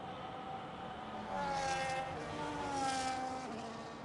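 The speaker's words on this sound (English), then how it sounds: "Sure, the sound of the cars is lovely" F1 race cars in a racing game drone with a steady engine whine that swells and shifts pitch as the cars pass, loud and continuous, with a voice talking faintly underneath.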